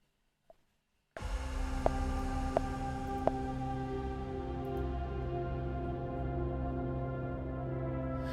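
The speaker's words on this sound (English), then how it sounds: "But listen to this beautiful, beautiful texture from Oblivion." Evolving synth texture from the Oblivion library's Aggression Designer, entering abruptly after a moment of near silence and then sustaining as a dense, steady drone with faint repeated ticks, fading slightly toward the end.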